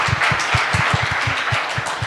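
Audience applause after a SSAFY recruitment Q&A session, steady hand clapping from a crowd throughout, fairly loud and close, with no talk over it.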